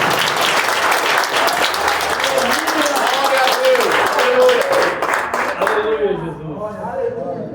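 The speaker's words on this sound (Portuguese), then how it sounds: "Se você pode, aplaude o Senhor por essa palavra." A church congregation at a Sunday worship service applauds together, a dense sustained wash of clapping that carries strongly for several seconds before thinning out, with voices mixed in beneath it.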